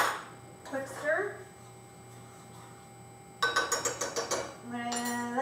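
A spoon scrapes and clinks against a metal pot of boiling water and rice powder in quick rhythmic strokes, with brief pauses between bursts of stirring.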